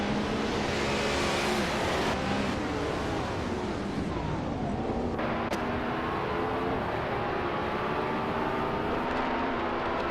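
Race cars pulling away from the starting line, a dense continuous engine roar with rising revs and overlapping motors, steady and loud throughout with no talking.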